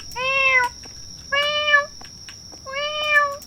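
A cat in a video game meows three times at even intervals, clear and close, each call a drawn-out tone with a quiet pause between.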